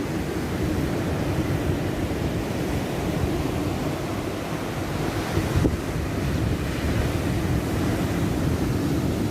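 Big ocean waves at Ungapan beach crash in a continuous roaring wash of surf, loud and steady throughout, with wind buffeting the microphone and no voices.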